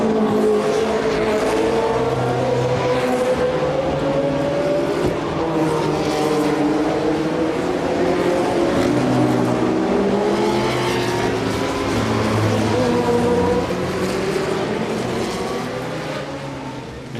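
Historic 1954–1965 rear-engine Formula One race cars at Monaco, their engines wailing and revving loud and steady as they pass in a continuous stream of rising and falling pitch with no voices.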